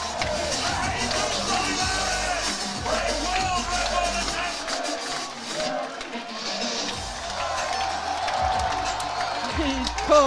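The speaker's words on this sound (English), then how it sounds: "the crowd chants Jesus" A large crowd at the Sheffield 2025 powerlifting meet chants a lifter's name, a steady, loud, roaring chorus that fills the whole clip, with a commentator's voice faintly mixed in.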